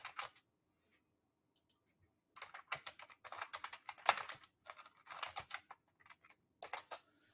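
Bursts of quick key presses on a computer keyboard as a product search is typed, close and clear, with a pause near the start and short gaps between runs of typing.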